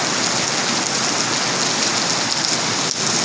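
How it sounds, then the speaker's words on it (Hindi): Heavy rain pours down in a steady, dense roar that fills the whole clip at a loud, even level, with no talking and no breaks. "ਕਿੰਨੀ ਤੇਜ਼ ਮੀਂਹ ਪੈ ਰਿਹਾ ਦੇਖੋ ਆਪ ਸਾਰੇ"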